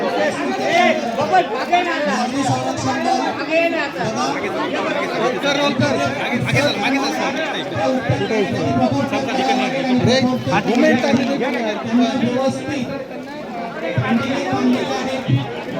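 A crowd gathers at a mock emergency drill in Nashik, a dense, steady babble of many voices with shouting and movement, loud and close throughout.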